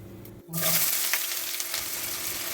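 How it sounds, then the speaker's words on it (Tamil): Onions drop into hot oil with popping mustard seeds in a pan, and a quiet crackle jumps suddenly into a loud, steady sizzle with faint stirring clicks. "கடுகு பொறிஞ்சதும் வெங்காயத்தை போட்டு லைட்டாக வதக்கிட்டு கருவேப்பிலை கொத்தமல்லி போட்டுடுறேன்"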